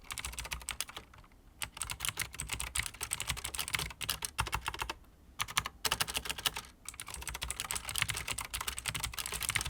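Rapid, continuous clacking from a Razer BlackWidow mechanical keyboard being typed on up close, dense bursts of key presses with a couple of brief pauses, moderately loud and unaccompanied.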